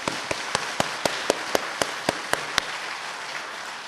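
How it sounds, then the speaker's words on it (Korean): Rhythmic clapping of praise in a church service, about a dozen evenly spaced sharp claps in unison that stop partway, over a soft background hum. "주님께 찬양의 박수를 올려드립니다."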